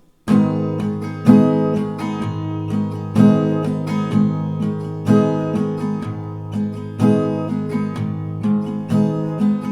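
An acoustic guitar strums chords in a steady repeating down-down-up rhythm, bright and close, with no claps or voices.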